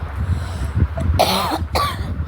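A pair of close, raspy coughs sound over low background hum, one strong burst and then a shorter second one.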